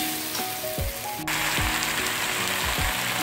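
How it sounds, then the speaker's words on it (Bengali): Chili powder and turmeric frying in hot oil while being stirred, a dense loud sizzle that swells abruptly, with rhythmic scraping strokes of the spoon repeating about every second. "এতে গুঁড়ো লঙ্কা দিলাম, হলুদ দিলাম, যতক্ষণ না তেল ছাড়ছে ততক্ষণ একটু ভালো করে নেড়ে নিই।"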